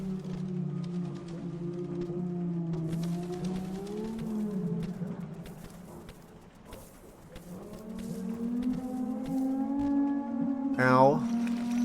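An eerie, low droning wail like a slowed-down ambulance siren slides and wavers steadily in the video game Animal Well, ending in a rising chirp, while a person talks over it.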